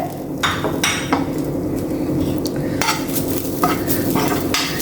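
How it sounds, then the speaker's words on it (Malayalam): A handful of grated coconut is stir-fried in a hot pan with coriander seeds, giving a steady close sizzle under repeated scraping strokes of a spoon against the pan's metal. No one speaks. "ഈ ചൂടിൽ തന്നെ നമുക്ക് ഒരു പിടി നാളികേരം ഇട്ട് കൊടുക്കുന്നുണ്ട്"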